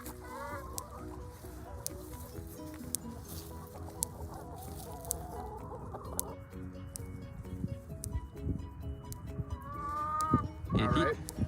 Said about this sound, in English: Right now we have chickens here on the farm